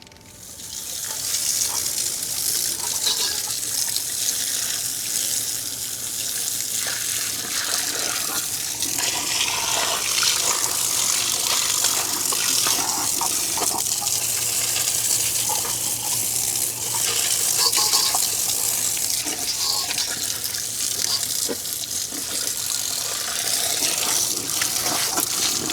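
A strong spray of water rinses polish off truck wheels at a truck wash. The steady, loud hiss and gush runs almost unbroken for the whole stretch, close up, with no talk.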